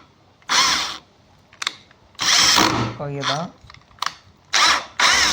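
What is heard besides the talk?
power drill removing a screw from a door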